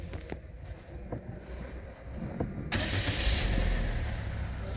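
A car with an electronic parking brake fault is started: faint clicks and a short crank, then the engine catches and settles into a steady, fairly loud idle.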